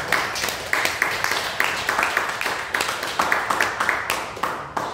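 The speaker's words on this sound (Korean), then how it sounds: "우리 박수로 축하합니다" A church congregation claps steadily to celebrate a child's birthday, a continuous rhythmic patter of many hands filling the room.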